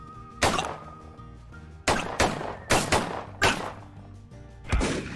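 Several loud, sharp shots in a wild west cowboy video game, a first shot followed by a quick cluster of four more and then a final shot, each with a ringing tail, no talking.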